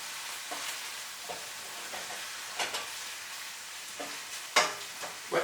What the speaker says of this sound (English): Just want to get a little bit of colour on the bacon.